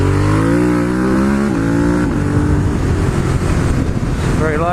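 Ducati Monster 1200S motorcycle rolling on the throttle in second gear along a dual carriageway, its loud, gritty engine note rising steadily with heavy wind rush throughout, close up and continuous.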